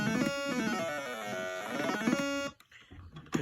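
A buzzy electronic Stylophone plays a short run of low, reedy bass notes up close, then stops abruptly.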